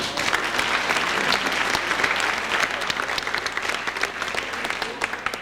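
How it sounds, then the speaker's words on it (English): Sustained audience applause fills a hall at a 1998 athletic awards banquet, many hands clapping densely and evenly at close range before slowly tapering at the end. "The Boosters deserve your applause."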